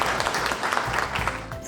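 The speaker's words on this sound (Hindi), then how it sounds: "गुजारिश है कि तशरीफ़ लाएँ आपकी भरपूर तालियों में मेजर शहज़ाद नैयर।" An audience at an Eid mushaira at AFOHS Club applauds a poet coming to the stage, sustained dense clapping that fills the hall close and loud.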